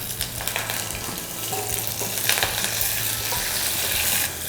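Curry leaves sizzle and crackle in hot oil, a busy frying hiss with scattered pops close by.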